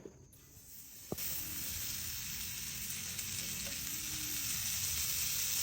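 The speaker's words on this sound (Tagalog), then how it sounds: "Nagpainit na ako ng sizzling plate guys. Tapos nilagay ko na yung star margarine." Star margarine melting on a hot sizzling plate gives a sudden loud, bright hiss that holds steady and close after a quiet start with a single knock.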